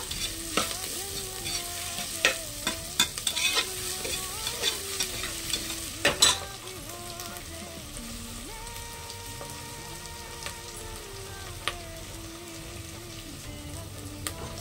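Onion, ginger and garlic frying in a pan, a continuous close sizzle broken by clusters of spoon-stirring clicks and scrapes early on, then settling into steady crackling.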